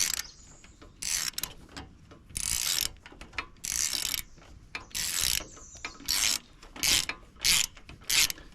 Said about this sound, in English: take them spark plugs out and see what we can see here